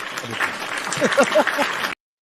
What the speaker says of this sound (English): Here, we'll play you a clap.